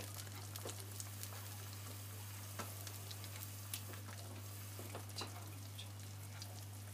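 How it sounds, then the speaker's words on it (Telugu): Cashews, almonds and raisins fry in a pan for bread halwa. A soft, steady sizzle carries scattered crackles and small pops over a constant low hum, with no voices. "సో ఇవన్నీ బాగా గోల్డెన్ బ్రౌన్ వచ్చేంత వరకు ఫ్రై చేసుకోవాలి."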